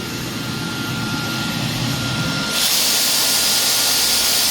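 A Dyson DC22 Motorhead vacuum cleaner running with nozzle suction, a loud, steady motor whine and rush of airflow that shifts to a brighter, airier pitch partway through, close and with no talking.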